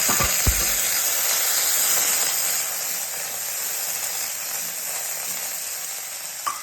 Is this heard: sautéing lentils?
yes